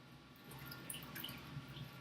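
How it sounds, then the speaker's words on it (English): Water draining from wet paper pulp through a papermaking deckle held over a pan, faint trickling and scattered drips close by. "You can notice how the water is draining out through the deckle."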